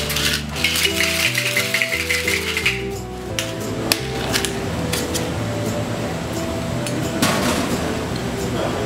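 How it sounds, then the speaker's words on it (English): Ice rattles inside a cocktail shaker for a Collins-glass drink with lime juice and egg white, shaken in rapid rhythmic bursts, close and clattery, then trailing off into softer rattling. "Add some ice. Give it a nice hearty shake."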